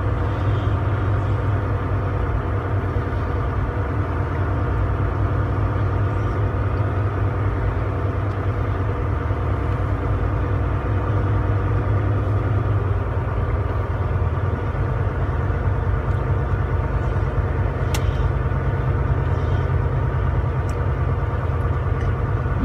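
A truck engine hums steadily at low pitch as the vehicle pulls off to unload at a warehouse, a constant close drone inside the cab with no talk.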